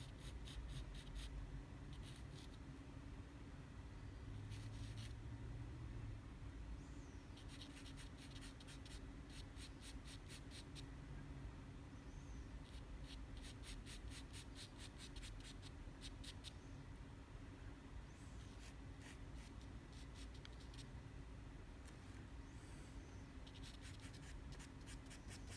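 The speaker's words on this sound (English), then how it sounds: "now I'm choking up on the pencil, on the charcoal, the vine, because I want to get details in here" Vine charcoal scratches and rubs across toned paper in a portrait drawing, with a faint, close, continuous texture that comes in short repeated strokes over a steady background hiss and no talking.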